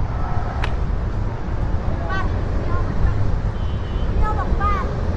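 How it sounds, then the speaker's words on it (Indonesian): Strong wind buffets an Insta360 X4 camera microphone fitted with a wind muff outdoors at a large mosque, a steady low rumble throughout with faint distant birdsong above it. "Ini anginnya cukup kencang ya."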